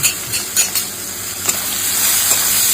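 Prawns coated in Kashmiri chilli powder stir-fried in a pan, a continuous bright sizzle with a few soft scrapes of stirring early on.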